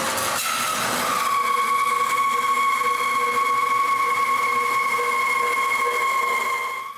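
A shop-built wooden band saw with its blade reversed, driven by a quarter-horsepower motor, cuts a piece of wood to the line, giving a steady, loud, continuous whining hum that runs the whole time with no talking.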